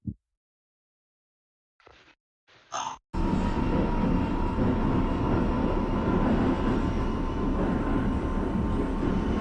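An R62A subway train in the OpenBVE simulator: after near silence and a few short clicks, a steady loud rumble of the running train sets in and holds.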